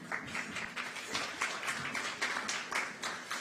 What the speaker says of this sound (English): She deserves an applause.